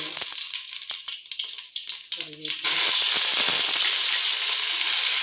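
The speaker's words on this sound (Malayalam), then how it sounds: "എണ്ണ ചൂടായി വരുമ്പോൾ നമ്മൾ കടുക്" Mustard seeds hitting hot oil for a garlic pickle, a sudden loud, steady sizzle that swells and holds close up, after a stretch of quieter clatter and softer frying.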